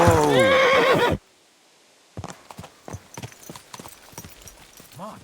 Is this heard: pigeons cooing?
no